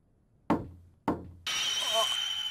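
Two sharp knocks land on a door about half a second apart, followed by a brighter sustained sound that may be a voice.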